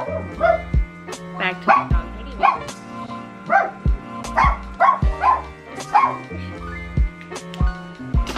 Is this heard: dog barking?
yes